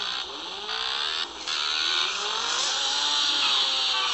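Cartoon motorcycles racing, engines revving in a steady high whine with rising and falling pitch sweeps, loud and continuous with brief dips.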